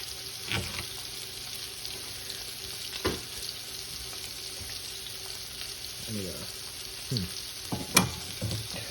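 Salisbury steak patties searing in a hot pan give off a steady low sizzle throughout, with occasional brief clinks and faint shuffling on top, close but quiet.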